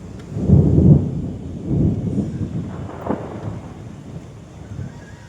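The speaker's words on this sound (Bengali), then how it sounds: "এত জোরে জোরে বিদ্যুৎ চমকাচ্ছে" Thunder from a rainstorm rumbles in deep, rolling bursts, with a loud peak near the start, another swell a second later and a sharp crack midway, over steady rain.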